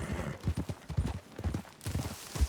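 Horse hooves clip-clopping in Red Dead Redemption 2, a close, uneven run of soft thuds at a walking-to-trotting pace with faint ambient noise behind.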